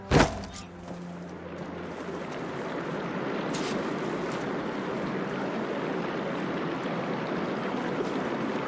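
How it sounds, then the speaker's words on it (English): In the Horizon Forbidden West video game, water flows into a room with a continuous, moderately loud rushing sound, preceded by a brief sharp knock at the start. "Aloy, I can hear water in the room again."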